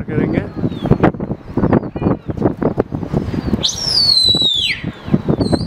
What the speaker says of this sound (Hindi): फिर से इनके कबूतर उड़ रहे हैं